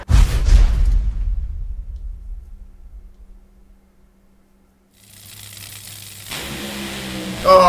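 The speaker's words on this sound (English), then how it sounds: "Ah, that launch sound." A burst of roaring engine as an NHRA drag race car launches, loud and rumbling at the start before fading to near silence, followed by a rising engine whine and crowd-like noise.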